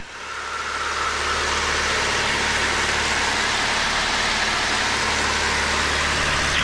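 A de Havilland Chipmunk's piston engine drones steadily in flight at around 2,000 RPM, a loud, constant cockpit roar that builds in over the first second and then holds.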